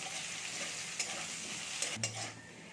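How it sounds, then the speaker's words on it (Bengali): Sliced potatoes fry in hot oil in a pan, a steady loud sizzle with a few sharp clinks of stirring near the end. "এবার এটাকে আমি একটু ভেজে নেব"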